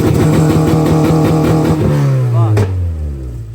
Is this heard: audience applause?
no